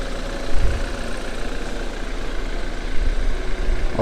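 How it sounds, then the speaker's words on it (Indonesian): A 2012 BMW 520i F10 pre-LCI engine idles smoothly with a steady low hum and faint mechanical whir, continuous and close, with no voices. "Mesinnya juga halus"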